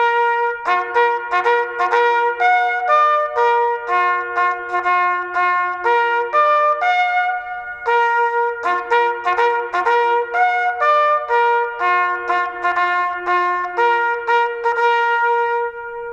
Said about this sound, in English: So the call for extinguished lights was a call that Napoleon liked.